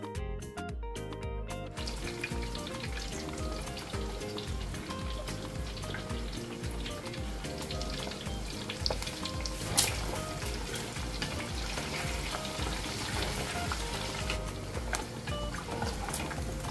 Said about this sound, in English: So now I'm going to fry the beef and the liver.